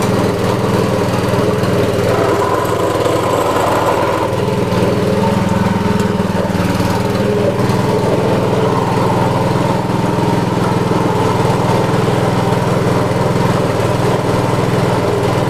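Engine-driven grinding machine milling dried chili for sambal, a steady loud motor drone with a rough grinding texture running throughout, no speech.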